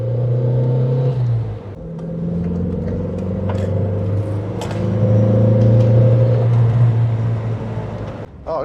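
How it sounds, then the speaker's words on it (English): An MG Maestro 2.0 EFi engine revs on the road while driving, a loud, droning hum that climbs through the gears with brief dips between shifts and steady interior rumble. "that is an engine, you just want to let it sing."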